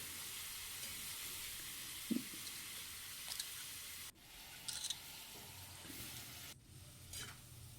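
Small marinated mourola fish sizzle steadily in hot mustard oil while being stirred, a constant soft frying hiss with a few faint scrapes and knocks of the spoon, and no talking.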